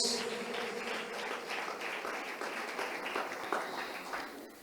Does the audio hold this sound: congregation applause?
yes